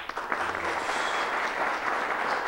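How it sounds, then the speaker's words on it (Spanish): An audience at a tourism event in Puerto Plata gives sustained applause, a dense, even roar of hand claps filling the whole moment with no voices. "yo voy a ceder ese aplauso y le voy a pedir otro"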